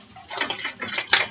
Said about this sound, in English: now I'm about to incorporate the milk and start whisking that in